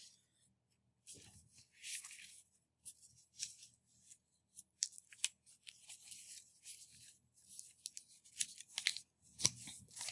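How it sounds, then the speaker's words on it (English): Paper flaps of a classroom foldable being creased and folded over, giving bursts of crisp rustling and crinkling at close range, with quiet pauses between handling strokes. "So go ahead and fold the flaps over on this dotted line here."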